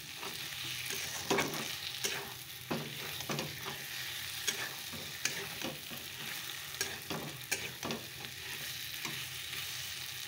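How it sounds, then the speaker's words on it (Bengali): Chicken cooks in a pan with a soft, continuous sizzle, broken by repeated scraping stirs and clicks from a utensil at irregular intervals, heard close with no voices. "রান্না হচ্ছে চিকেন। চিকেনটা বসানো হয়ে গেছে।"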